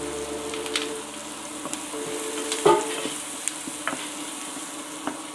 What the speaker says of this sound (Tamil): பெரிய வெங்காயம் 1, நல்லா வணங்கட்டுங்க